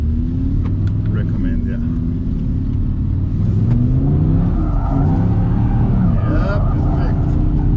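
A rear-wheel-drive car with a new torque rear system revs and accelerates hard in second gear while attempting a drift, engine loud and close with rising pitch sweeps, as people talk over it.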